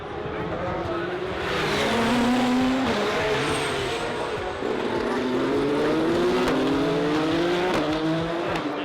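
Race cars at night during the 24 Hours of Le Mans roar past one after another, engine notes sweeping up and down in loud, continuous overlapping passes, with faint voices in the background.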